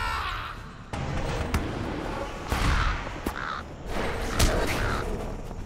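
Crows cawing in the video game LOTRO, several harsh calls spread across the stretch over a busy ambient game soundscape with a few sharp bursts.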